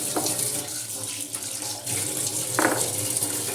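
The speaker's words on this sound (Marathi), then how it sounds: "असा स्वच्छ करून घ्यायचा पाटा धुवून" Water pours steadily as a stone grinding slab (pata) is rinsed clean, a continuous splashing rush with a couple of brief louder splashes, close and loud.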